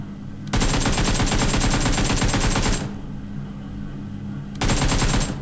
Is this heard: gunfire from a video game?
yes